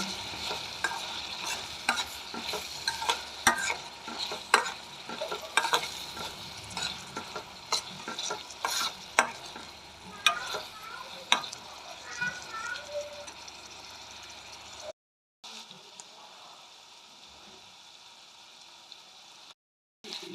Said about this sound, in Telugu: ఇవి కూడా బాగా ఎర్రగా వేయించాలి